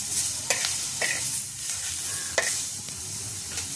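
Coriander seeds roasting with tomato and onion in a little oil in a pan give a steady close sizzle, broken by several sharp scraping stirs of a spoon against the pan, with no talking.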